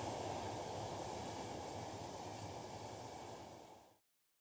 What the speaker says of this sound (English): Redfern's sand now arrives by special train using an otherwise disused line.